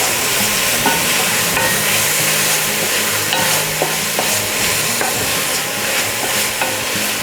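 Texas chili is stirred in a pot: a loud, dense bubbling sizzle fills the whole stretch, with regular soft scrapes and knocks of a spoon against the pot, and no voices.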